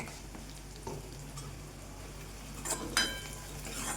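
Onion and tomato frying in a pan with half a spoon of turmeric just added, a quiet continuous sizzle with a few light stirring scrapes and clinks toward the end.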